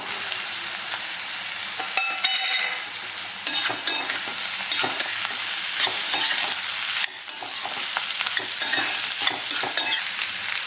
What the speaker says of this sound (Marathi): आता आपला कांदा लालसर भाजून झालाय आता याच्यात आपण कारलं घालून घेऊ